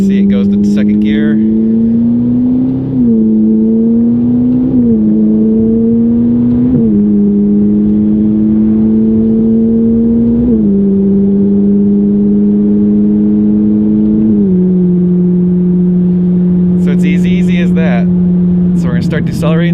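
A Ferrari 458 engine accelerating hard with paddle-shift upshifts. The loud, steady engine note climbs and drops at each gear change, several times in a row, with a brief higher burst near the end.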